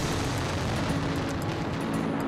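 Aerial fireworks barrage over Valencia during the Night of Fire at the Fallas festival, a dense, continuous rumble of overlapping bursts and crackles at steady loudness without a single break.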